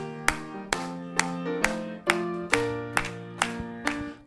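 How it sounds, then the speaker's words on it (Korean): A church congregation claps along to a hymn in a steady rhythm of about two sharp claps per second, mixed with sustained organ-like chords from the hymn accompaniment. "힘차게 박수 치시면서"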